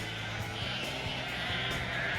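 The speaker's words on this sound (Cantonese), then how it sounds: "趕羊入嚟食草啊！" A flock of sheep is herded into a pen at Abbey Farm in North Wales, with repeated bleats rising from a dense, constant wash of background noise at moderate distance.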